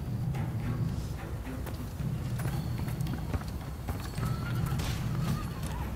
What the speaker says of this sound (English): Here's where they practice horseback archery.